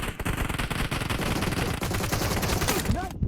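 Rapid automatic gunfire crackles almost without pause through a PUBG Mobile gunfight, loud and dense, with overlapping bursts cutting off abruptly at the end.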